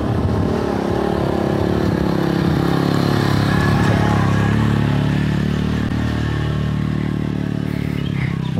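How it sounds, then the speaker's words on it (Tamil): A vehicle, likely a motorcycle, labours up a steep, dangerous mountain road through Western Ghats forest, its engine droning steadily and close with some clatter and scraping throughout. "வண்டி எப்படி மேலே ஏறுது பாருங்க"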